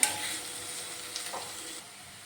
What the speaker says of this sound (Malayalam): ഇനി ഇത് നമുക്ക് നന്നായിട്ടൊന്ന് വഴറ്റിയെടുക്കാം